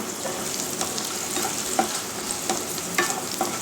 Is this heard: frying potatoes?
yes